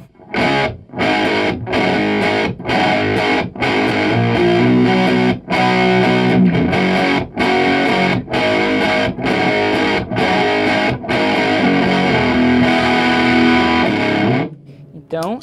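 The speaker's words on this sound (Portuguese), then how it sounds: "Um fuzz que você consegue sons velcro, doideira e uns porrada." Electric guitar driven through a Cachalote fuzz pedal for heavy, saturated fuzz tones, loud rhythmic stabs cut by sharp repeated gaps over about fifteen seconds, ending abruptly.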